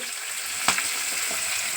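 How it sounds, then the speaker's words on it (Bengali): Fish sizzles steadily in hot oil, a close crackling hiss with one sharp pop near the middle. "এই মাছ ভাজা চলছে"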